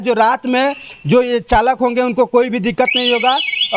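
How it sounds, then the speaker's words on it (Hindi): A wavering electronic alarm tone from an electric rickshaw horn repeats over continuous talking, its pitch sweeping steadily up and down like a siren-style horn, moderately loud and close. "देखिए इसमें हॉर्न जो है काफ़ी, जो अलार्म आपको सुनाई दे रहा होगा"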